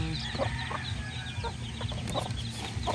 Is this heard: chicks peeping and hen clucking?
yes